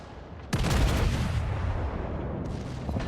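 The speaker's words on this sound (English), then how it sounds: "He's now in secondary range, which immediately opened fire on him." Warship secondary guns open fire in World of Warships, a sudden loud burst of booming shots that rolls into a sustained rumbling barrage, with another blast near the end.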